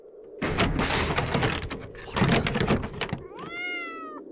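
A cat in a horror video game, with scraping and thumping noises up front, then a clear, drawn-out meow near the end, close and fairly loud.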